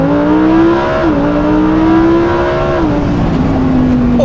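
A Lamborghini Huracan EVO engine revs hard and launches away in a strong, steady launch-control acceleration, its rising drone shifting pitch as gears change, loud and close.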